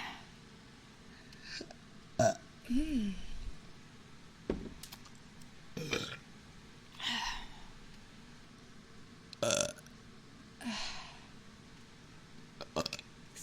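A series of short, gurgling burps comes at irregular intervals, fairly close but moderate in level, with quiet background noise between them.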